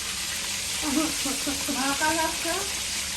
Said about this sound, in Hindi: ये आपने मच्छी फ्राई किया है?